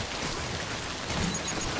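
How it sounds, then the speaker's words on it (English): Steady video game rain in Death Stranding hisses down in a continuous, even patter, fairly close and uninterrupted, with no voices. "It sure is raining."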